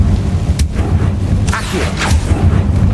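A Confringo fire-blast spell is cast in Hogwarts Legacy, loud booming bursts with whooshing crackles over a constant low rumble of combat, with no talking.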